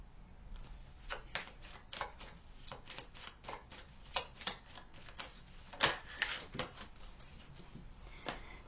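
Tarot cards being shuffled in a quiet room, a run of soft, quick riffling taps and flicks in uneven bursts, close and fairly faint, with no voices.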